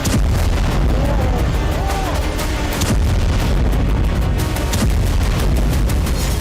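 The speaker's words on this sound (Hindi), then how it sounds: "सबसे संवेदनशील एंगेल्स 2 बेस पर धमाके हुए" Explosions at Russia's Engels-2 air base in Saratov, hit in a Ukrainian drone strike, make a dense, loud, continuous roar marked by sharp booming bursts throughout.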